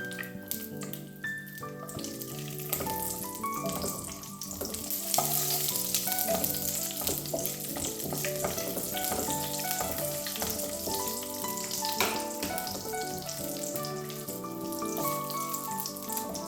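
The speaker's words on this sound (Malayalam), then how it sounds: "ഇനി നമുക്ക് അതിലേക്ക് അണ്ടിപ്പരിപ്പ് മുന്തിരി ഇട്ട് കൊടുക്കാം." Cashews and raisins sizzle steadily in hot ghee with a continuous crackling fry and occasional stirring, under soft background music.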